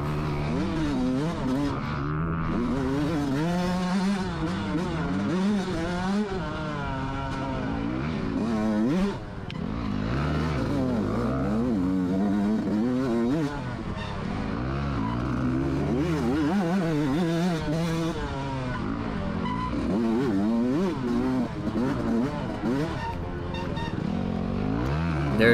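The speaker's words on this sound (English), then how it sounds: "I don't think he can hear the 125 too well riding on that big four banger" Dirt bike motorcycles racing in a farm harescramble, a 125 two-stroke and a big four-stroke, loud close engines revving and shifting continuously with rising and falling pitch and clatter from the trail.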